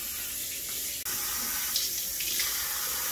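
A kitchen tap running steadily as water is measured out, a loud continuous splashing hiss with a brief break about a third of the way through.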